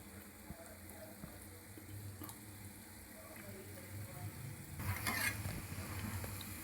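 Wheat gulab jamun balls frying in hot oil on low-medium flame while being stirred, a soft steady sizzle with faint stirring scrapes, quiet and close, no talking.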